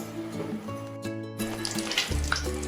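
Bread vada frying in hot oil in a home kitchen, a steady crackling sizzle with a brief splashy burst midway, close and moderately loud.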